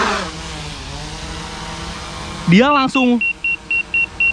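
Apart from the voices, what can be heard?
Autel Evo 2 drone propellers spinning up for takeoff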